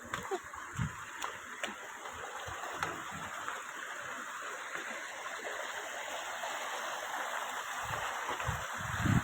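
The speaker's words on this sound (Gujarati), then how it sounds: "કેવું મસ્તીનું પાણી જાય, જોવો જ જાય." Water in a rocky stream flows with a steady, broad rush and splash, close and continuous throughout, with faint voices now and then.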